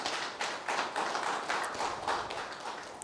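A seated audience claps their hands in a government welfare secretaries' meeting hall, a brisk, fairly steady patter of many palms in waves that rise and ease a little, heard from a short distance.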